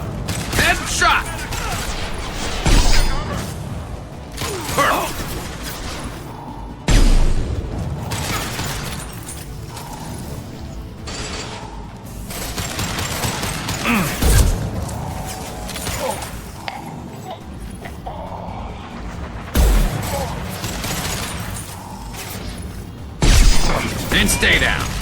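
Gunfire in the video game Mass Effect 2, sporadic loud shots and short bursts scattered through a busy game mix, with voices talking over the action.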